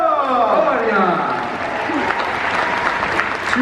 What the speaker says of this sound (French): Mesdames et messieurs, je vais vous demander d'applaudir bien fort.